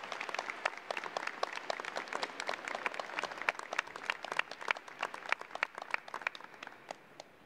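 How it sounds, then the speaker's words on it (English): Graduation crowd applauding at a 2021 high school ceremony, dense sustained clapping from many hands throughout, fairly distant and even, with no voices on top. "give yourselves a round of applause"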